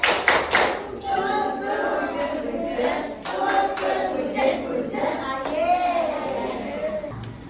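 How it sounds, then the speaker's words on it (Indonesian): A school class performs a rhythmic train clap, with children's hands slapping in quick patterned bursts alongside chanted voices and occasional thumps, close and lively in a classroom. "Saya kasih tepuk kereta api dulu ya supaya kalian lebih semangat"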